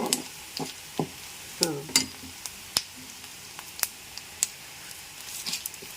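Dried red chilies and curry leaves crackle and sizzle in a hot pan while tempering for a ridge gourd tomato chutney, with sparse pops and spatula scrapes heard faint and close.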